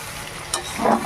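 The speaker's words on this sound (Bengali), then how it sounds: "এবার সব মশলাগুলোর সাথে ভালো করে আলু পটলকে কষিয়ে নেব" Potatoes and pointed gourd fry in a pan with salt and a paste of ginger, cumin, garlic and onion, giving a steady close sizzle that swells into a louder stirring burst near the end.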